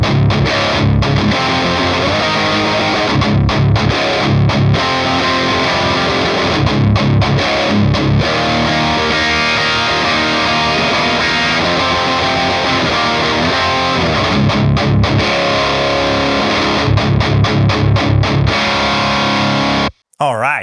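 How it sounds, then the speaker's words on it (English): Heavily distorted electric guitar, an ESP LTD Phoenix 1000 Deluxe through an Orange tube amplifier, plays loud, dense riffs with rhythmic chugging stops, continuous for about twenty seconds before cutting off abruptly. "we're going to just do a raw playthrough of this amplifier"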